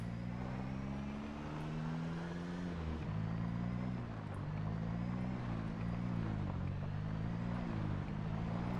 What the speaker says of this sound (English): I have no shame in using the car if I have to kill some zombies with it.